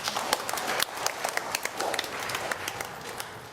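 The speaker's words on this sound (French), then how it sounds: "Applaudissez-le encore." Church congregation applauding during a Sunday Mass, a steady wash of many hands clapping with sharp individual claps standing out, continuous and moderately loud across the whole moment.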